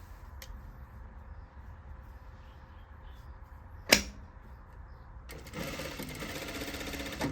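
A sewing machine stitches a half-inch seam around the pocket of a circle skirt, quiet handling and a sharp click giving way to a steady, close motor whir near the end.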